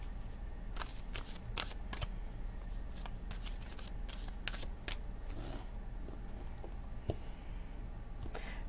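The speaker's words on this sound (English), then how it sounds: "Two more shuffles." Quiet riffling and flapping of tarot cards being shuffled, several quick bursts with soft pauses between, close by.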